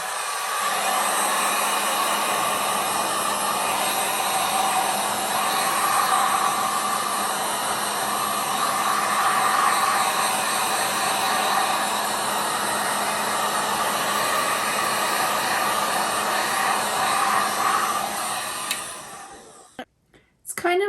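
A heat gun blows steadily onto fluid art paint, a loud, even rushing hiss held for almost twenty seconds before it cuts off abruptly.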